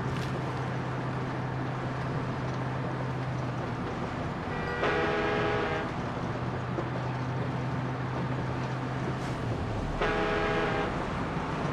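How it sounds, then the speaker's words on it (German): In the video game Far Cry 6, a vehicle horn honks twice, each blast about a second long and several seconds apart, over a steady loud engine and road drone. "Man muss anscheinend immer hupen oder so, dass die sich freuen."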